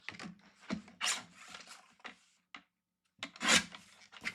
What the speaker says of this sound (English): So let me just trim this down because I don't need this big of a piece.